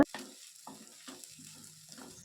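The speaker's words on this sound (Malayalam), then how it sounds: "അര ടീസ്പൂൺ ഉപ്പ് കൂടിയിട്ട് നമുക്ക് ഈ സവാളയൊന്ന് വഴറ്റിയെടുക്കാം" Onion sautéing with salt in a pan for Kerala-style koottukari: short, rhythmic scraping stirs every half second or so over a faint, soft sizzle, with no one speaking.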